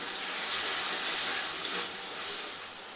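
Ginger-garlic paste, green chilli paste and catla fish oil sizzle together in a pan for a Bengali fish chorchori. A loud, steady broadband hiss holds from start to finish without talk.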